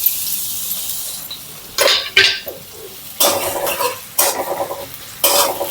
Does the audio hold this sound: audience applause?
no